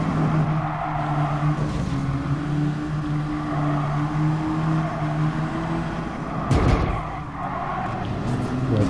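A racing car engine with turbo in Gran Turismo Sport drones steadily at high revs, a sustained humming tone that shifts pitch briefly around a gear change.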